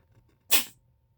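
A single short sneeze bursts out abruptly close by against a quiet indoor background, loud for a brief moment and then gone.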